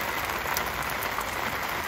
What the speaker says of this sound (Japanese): もうここは雨が降ってきて